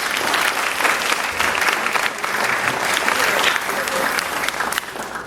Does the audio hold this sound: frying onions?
no